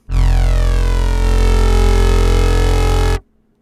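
A single sustained synth bass note with hard clip distortion, made in the Helm synth, loud and buzzy with a dense, gritty edge, holding steady for about three seconds before cutting off abruptly.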